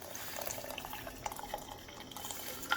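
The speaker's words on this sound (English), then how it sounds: "we're going to add our ice cold water" Ice-cold water is poured into a pot of Kashmiri pink tea, giving a steady close splashing and trickling that runs throughout.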